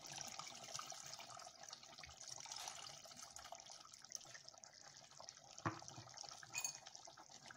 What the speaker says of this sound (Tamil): இப்ப நம்ம கரைச்சி வச்சுக்க புளிய இதுல சேர்த்துடலாம்.